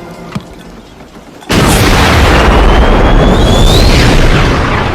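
Cartoon explosion in a room full of gunpowder and explosive gems: a quiet lead-in, then a sudden loud boom that settles into a sustained roaring blast with a rising whistle in it.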